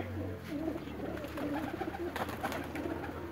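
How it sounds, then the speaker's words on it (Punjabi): A female Teddy pigeon of the Sialkoti breed coos softly in a series of low, throaty murmurs, close by, with faint background noise and no talk. "ਇਹ ਟੈਡੀ ਕਬੂਤਰ ਹੈ ਜੀ।"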